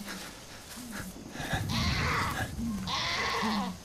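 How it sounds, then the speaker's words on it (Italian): Goats in the video game Far Cry 5 bleat repeatedly in harsh, raspy cries, close and loud over dense background noise, several overlapping calls in quick succession. "Dio, queste capre fanno un rumore veramente orribile."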